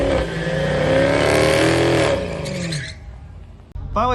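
A Dodge Challenger drag car launches in the 1320 Shootout class at Holley MoParty 2022, its engine roaring loud and close and rising in pitch before fading quickly into the distance down the strip.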